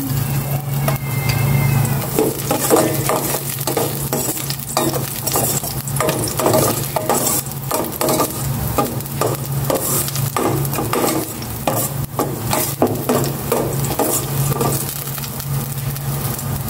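Garlic sizzles loudly in a hot pan while a utensil scrapes and stirs it in quick, irregular strokes, close up and continuous, with no talking.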